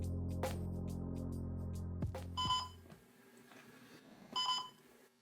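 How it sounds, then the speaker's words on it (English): Electronic beeping alarm from a nearby Hohem iSteady X smartphone gimbal, a buzzing drone at first, then two short bursts of high beeps. "What kind of annoying alarm is this?"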